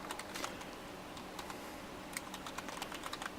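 Fingers typing on a computer keyboard, close, quiet clicking keystrokes in irregular quick runs, heard alone without speech.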